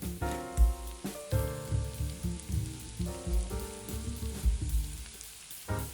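Coarsely chopped sweet onions hit hot olive oil in a pan, giving a steady crackling sizzle with clatter from stirring, close and alone without talk.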